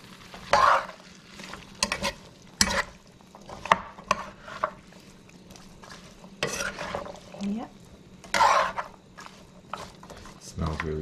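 A spoon stirs and folds a wet pumpkin and shrimp mixture in a bowl or pan, with repeated scraping, squelching strokes and a few sharper clinks, close up and moderately quiet.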